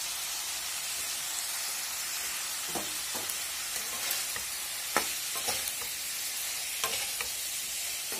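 Tomatoes frying in a pan for a spicy fish curry, a broad, hissing sizzle that holds steady throughout, with scattered sharp clicks and scrapes as the pan is stirred, close and no talking.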